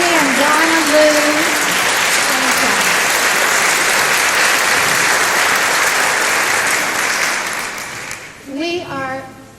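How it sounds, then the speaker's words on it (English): Audience at a middle school concert applauding a chorus sextet, loud sustained clapping that thins and fades near the end as a voice begins speaking. "want to give another applause for our sextet"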